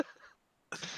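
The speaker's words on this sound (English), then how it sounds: "I coughed." A single short cough bursts out at the end after a brief quiet moment, close and fairly soft.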